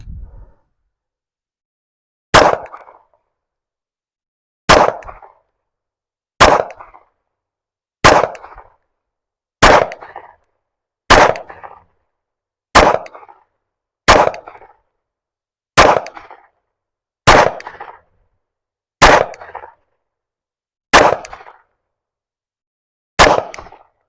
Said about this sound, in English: Okay, so I've got several rounds, and let's just start shooting.